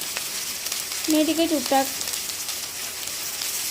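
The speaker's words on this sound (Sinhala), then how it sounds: "ඒ ටික හොඳට රන්වන් පාට වේගෙන එනකම් බැදෙන්න ඇරලා" Onions and chilies sizzle steadily in a pan of hot oil, a continuous close frying hiss while a person speaks briefly over it.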